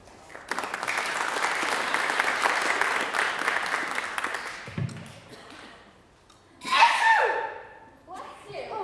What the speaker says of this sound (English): I think your sneezes have been getting louder.